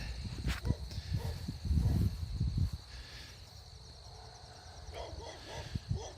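A dog barks several times in short bursts outdoors, fairly close, with a steady insect-like hiss in the background.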